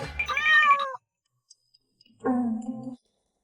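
A cat gives two clear meows, the first higher and rising, the second lower and shorter, separated by a second of near silence with a few faint ticks.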